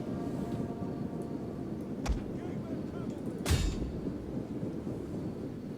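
Ancient troops fire on enemy pike formations in the video game Ancient Empires, with two sharp, booming cracks spaced apart over a constant rumbling battle din.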